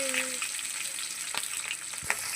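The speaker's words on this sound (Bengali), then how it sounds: "পেঁয়াজ কাঁচা লঙ্কা কুচি করে রেখেছিলাম, ওটা তেলের উপরে দিয়ে দেবো।" Chopped onions and green chillies frying in hot oil with a split dried red chilli, a steady bright sizzle with occasional stirring scrapes and clicks, close and continuous.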